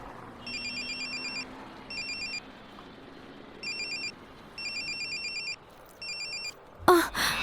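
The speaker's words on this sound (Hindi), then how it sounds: "फोन बैग में है और सबको परेशान कर दिया।" A mobile phone rings inside a bag in a busy indoor scene, its electronic ringtone repeating in regular bursts over a murmuring background, then cut off by a sudden rustling clatter.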